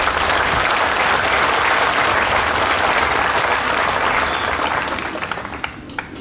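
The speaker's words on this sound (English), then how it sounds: "Let's give them a round of applause." Applause from a large crowd at a 2022 Viroqua High School graduation ceremony, sustained and loud before gradually tapering off near the end.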